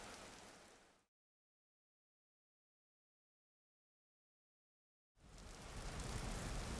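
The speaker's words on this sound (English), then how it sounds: "as you can see, we have rain here" Rain falls in the Vintage Story video game, a steady broadband hiss heard while sheltered under cover; it plays for about a second, cuts to silence, then returns louder.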